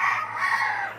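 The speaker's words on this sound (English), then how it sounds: "You can hear my baby roosters over there." Young roosters crowing in a backyard chicken flock, a single strained, reedy crow lasting about a second, moderately loud and slightly distant, with no voices.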